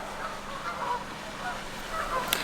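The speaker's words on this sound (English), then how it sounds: "Quite sociable, these Canada geese, I must admit." Geese honk faintly at a distance, a loose chorus of calls rising over steady outdoor noise.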